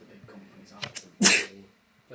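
A single loud, sharp sneeze bursts out close by during a tabletop Call of Cthulhu game session. Soft talking is heard just before it.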